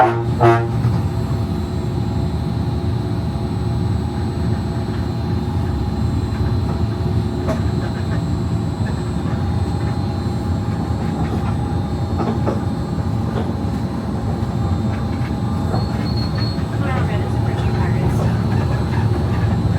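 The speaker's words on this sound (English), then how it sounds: "welcome aboard the Disneyland Monorail" The Disneyland Monorail runs with a steady, loud rumble and rolling hum, recorded from inside the nose cabin, with announcements playing over it.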